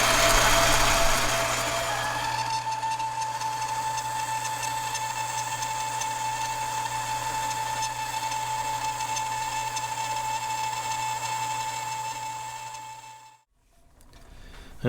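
A small-diameter boring bar cuts inside a bore on a lathe with a loud, steady, droning hum and high metallic ringing overtones, then stops abruptly near the end.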